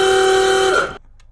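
A car horn gives a single steady, loud honk that cuts off sharply after under a second.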